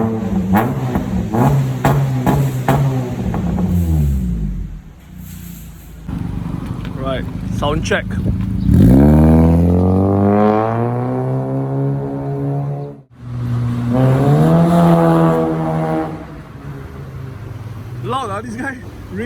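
A Honda Jazz GK5 fitted with a 2-inch catless header revs on a dyno in loud, rising engine sweeps with short pauses between pulls. People talk over the opening revs.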